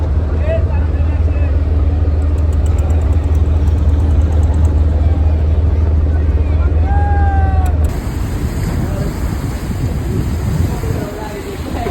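A passenger launch travelling on the river from Dhaka to Chandpur, its engine giving a constant heavy low drone with wind and water noise, the low hum cutting off abruptly near the end, leaving broadband rushing.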